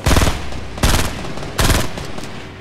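Machine gun fire in Fortnite: three loud, close bursts of rapid automatic shots, each a dense rattling volley roughly a second apart with brief decaying gaps between, and no talking.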